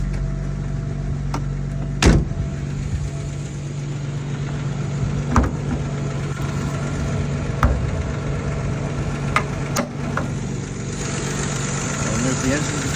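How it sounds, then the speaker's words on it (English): Idling engine of a 1961 Jaguar MKII with the hood open, a steady low rumble running throughout, close to the microphone, with occasional clunks and a person speaking over it. "Let's open up the hood for you so you can hear the engine going."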